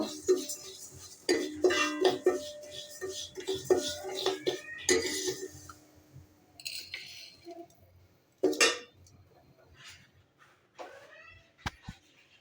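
Fried mashkalai dal for a vegetarian Bengali recipe is scraped and tipped from a pan into a pot, giving close, irregular clinks and scrapes of metal utensils on cookware that come in busy bursts and then thin out into scattered knocks.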